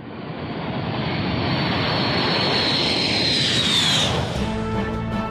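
A MiG-31 jet aircraft roars past with a loud, broad engine rush and a sweeping high whine that swells and then fades.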